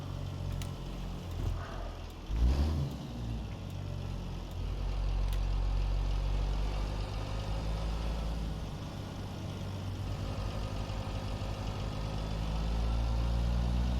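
A modified Kenworth K100 truck engine idles in American Truck Simulator, a low steady rumble with a deep droning hum that thickens slightly midway and carries on evenly, with no talk over it.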